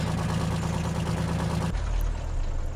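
Oliver 2255 tractor with a V8 Cat engine in Farming Simulator 19, a low, steady rumbling idle that drops abruptly to a deeper, heavier drone partway through, with no voices.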